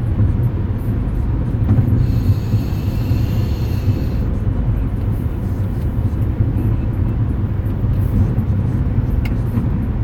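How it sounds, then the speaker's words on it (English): A car drives on a highway in heavy traffic, giving a steady, loud, low road rumble and engine drone with no voices throughout. "We made it through the traffic. There's still heavy volume here"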